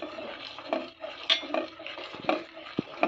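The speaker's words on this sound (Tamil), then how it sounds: "அந்த ஜீனியை அதில் போட்டுக்கிறேன் போட்டுக்கிட்டு கிண்டிக்கிட்டே இருக்க வேண்டியதுதான்" Milk and sugar being stirred in a pan while making palkova, a spoon scraping and clinking against the metal in an irregular rhythm with soft bubbling underneath, close and moderately quiet.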